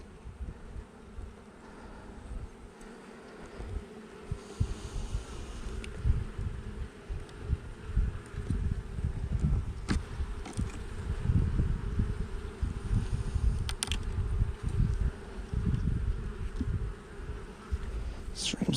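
Honey bees buzz steadily around an open hive in cool late-fall weather, a dense, continuous low drone with individual bees flitting close past now and then.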